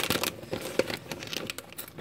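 Stuck paper crinkles and tears in short crackling bursts as it is peeled, close by and fairly quiet.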